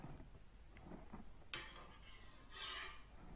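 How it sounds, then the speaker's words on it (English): A stainless steel cheese-making utensil scoops mozzarella curds from the pot with a sharp metallic knock, then scraping and a sloshing swirl of whey, fairly close and without talk. "So just keep scooping until you've got all the curds out"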